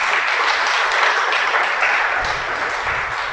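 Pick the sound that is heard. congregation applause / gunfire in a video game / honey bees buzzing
congregation applause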